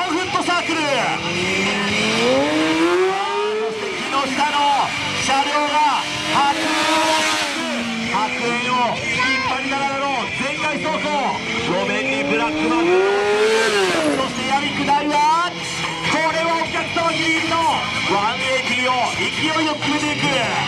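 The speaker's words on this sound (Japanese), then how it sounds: "そしてお客様ギリギリをスライドターン、そしてバーンアウト。" Stunt motorcycle performing a slide turn and burnout close to spectators at a Japanese riding school show: loud revving engine with rising and falling pitch, tire squeal and skidding, with a commentator talking over it throughout.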